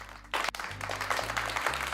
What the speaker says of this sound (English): everybody, please give a warm round of applause for Professor Lady K.